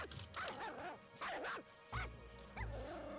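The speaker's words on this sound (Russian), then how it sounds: "Мы услышали его лай" Pomeranian spitz barking outdoors in woodland, a few sharp yappy barks in quick bursts, fairly faint and distant with quiet background.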